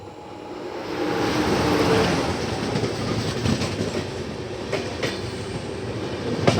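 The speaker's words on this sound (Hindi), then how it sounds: "अभी हमारी क्रॉसिंग होने जा रही है डिब्रूगढ़ लालगढ़ अवध आसाम एक्सप्रेस के साथ।" Passenger train crossing the Dibrugarh–Lalgarh Avadh Assam Express, heard from aboard the Kashi Vishwanath Express between Delhi and Banaras: a loud, steady rolling rumble with rhythmic clickety-clack wheel beats and brief sharp knocks as the trains pass.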